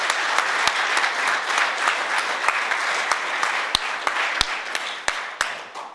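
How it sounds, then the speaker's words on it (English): Audience applause after a standards working group session at a conference, steady clapping from a crowd with sharp individual claps standing out, lasting the full six seconds and tapering slightly at the end. "so a big round of applause for John and Kevin."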